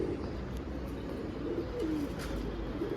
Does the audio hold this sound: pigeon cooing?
yes